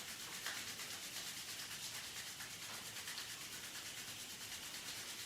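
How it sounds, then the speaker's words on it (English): Palms of the hands rubbed together during a yoga session, a steady close-up dry swishing friction that continues evenly for several seconds, with no talking. "Bring the hands together and rub the palms."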